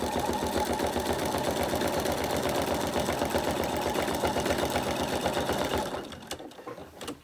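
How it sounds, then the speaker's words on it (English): A sewing machine runs steadily at a fast even pace, doing free-machine embroidery around an applique curve on a campervan design, close and loud, then winds down and stops near the end. "we're going to sew around the curve on this side."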